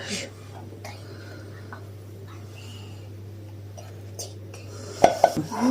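Two eggs are cracked into a bowl of lentils for a flourless lentil bread batter: a couple of sharp close knocks of shell against the rim near the end, following a quiet stretch with faint kitchen handling and a low hum.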